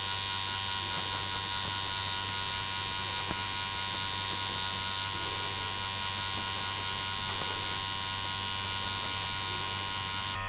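Continuous electric buzz of a tattoo machine running a 13 soft edge Magnum needle while packing solid black ink, a steady hum with faint mechanical texture throughout and no voices.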